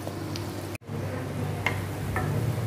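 Wheat peniya frying on a stove, a steady close sizzle of hot oil with faint ticks and pops running throughout, no talk.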